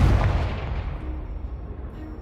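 An explosive Confringo spell bursts in Hogwarts Legacy, a loud booming blast with a deep low rumble that decays over about two seconds, no voices over it.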